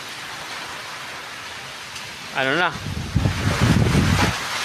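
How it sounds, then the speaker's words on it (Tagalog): Heavy rain and strong wind from Typhoon Kristine make a steady, loud roaring hiss, with gusts building toward the end, while a voice speaks briefly in the middle. "malakas ang ulan tsaka hangin"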